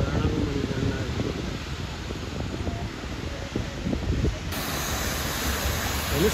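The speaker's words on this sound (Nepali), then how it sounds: "झरनाको मुनि जान लागेको" Water from a waterfall in Alameda park, Lisbon, crashes and splashes in a steady broadband roar, close and continuous, with the texture brightening and growing harsher near the end as the listener moves closer.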